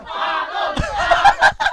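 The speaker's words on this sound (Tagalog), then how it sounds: "Alam daw may sinisigaw yung crowd," A crowd at a Filipino rap battle roars and shouts together, a dense wall of massed voices rising into loud rhythmic yells near the end.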